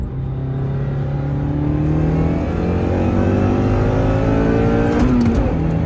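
Car engine pulling hard in third gear after a power upgrade, a loud steady rumble that climbs continuously in pitch as it accelerates, close up with no talking.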